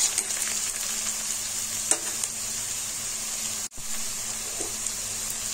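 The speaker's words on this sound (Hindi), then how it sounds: "1/2 टीस्पून जीरा डालेंगे। प्याज को 2 मिनट तक फ्राई करेंगे।" Onion and cumin fry in a pan with a steady, close hiss of sizzling oil, a few soft stirring knocks, and one brief dropout partway through, with no talking.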